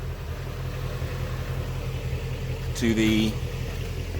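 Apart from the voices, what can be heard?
2016 Shelby GT350 track package engine idling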